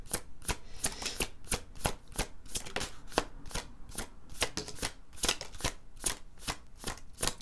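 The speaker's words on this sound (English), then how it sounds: "I'm taking my time with this shuffle." Tarot deck being shuffled slowly and steadily, a long run of crisp, close card riffles and slaps repeating at an even rhythm with no voices.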